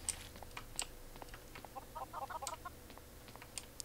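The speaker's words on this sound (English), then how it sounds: "lovely chickens over here, clucking away, producing eggs" Minecraft chickens clucking in the video game, a scatter of soft, short clucks and chirps coming in irregular bursts, with a cluster of quick clucks in the middle, faint against a quiet background.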